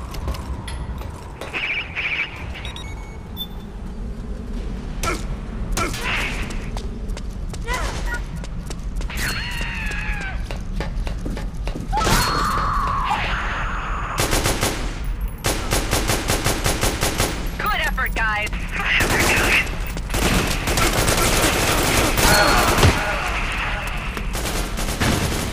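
Sniper rifle shots in a video game ring out among dense, continuous gunfire, with sharp cracks and rattling bursts filling the whole stretch while voices talk over the action.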